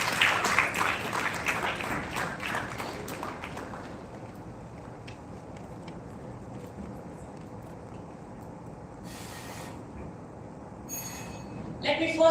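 An audience at a national-level oratory contest claps for a speaker for about three seconds. The applause then fades into quiet room tone, and a brief noise rises again at the very end.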